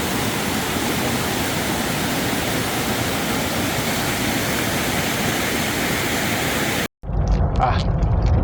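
A creek flowing down from a waterfall on Doi Inthanon, Thailand, a loud, dense, steady rush of water that cuts out abruptly near the end before a brief burst of quieter noise.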